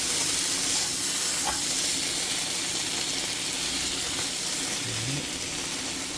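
Marinated LA galbi, thin-sliced bone-in beef chuck short ribs, frying in a pan, giving a steady, close hiss and sizzle that holds evenly throughout with no talking.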